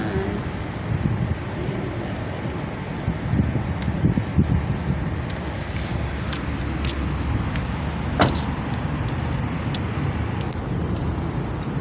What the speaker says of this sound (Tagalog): Ayan yung highway.